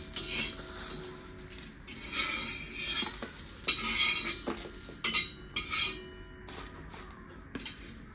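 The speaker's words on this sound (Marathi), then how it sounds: "तर आता ह्या एका प्लेटमध्ये मी काढून घेते।" A spatula clinks and scrapes against a pan and plate as bitter gourd fried in gram flour is lifted out. Soft sizzling runs beneath irregular metallic taps, with a few louder clatters in between.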